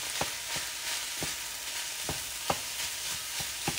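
Food frying in butter in a pan sizzles steadily and close up, with soft rhythmic scrapes of stirring roughly every third of a second.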